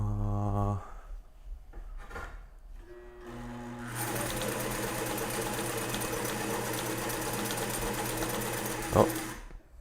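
A sewing machine runs in a long steady burst of rapid stitching, close and fairly loud, after a few short starts and faint tonal hums, ending with a sharp knock.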